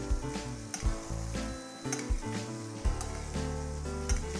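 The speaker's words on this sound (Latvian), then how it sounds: "Pannā lieku sviestu, ķiploku un rozmarīnu." Butter, garlic and rosemary sizzle and fry steadily in a stainless steel pan after searing steak, a loud, continuous crackling hiss with occasional stirring bumps and scrapes throughout.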